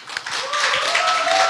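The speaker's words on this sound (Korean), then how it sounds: "우리 큰 박수로 마실 박현선 전 대표님을 모셔봤으면 좋겠습니다." Conference audience clapping to welcome a speaker to the stage at a social innovation event, a brief burst of applause that builds quickly and stays dense, with faint voices mixed underneath.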